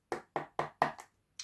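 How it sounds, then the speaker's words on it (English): Five crisp knocks in quick, even succession, then a sixth after a short pause, close and distinct against silence. "Knock, knock, knock."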